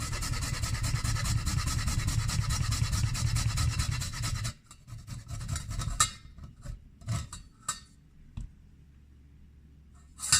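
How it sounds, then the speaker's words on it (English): Lime zest is rubbed on a small handheld kitchen grater in rapid, even rasping strokes for about four seconds, followed by scattered light clicks and taps of the grater and peel. "This kind of small grater is very handy when grating this."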